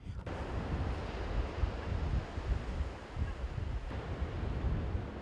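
Sea waves wash onto the shore at a fishing village quay on the edge of Dakar, a steady, rumbling surf with gusts of wind buffeting the microphone and no talking.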